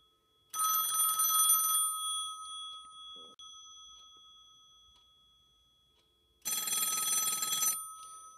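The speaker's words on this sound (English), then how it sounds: "So right now the ringer is in its lowest volume setting." A Western Electric 500 rotary telephone bell, at its lowest ringer volume, rings in two short, rattling bursts separated by a long quiet gap, fairly soft and close, with a faint click between.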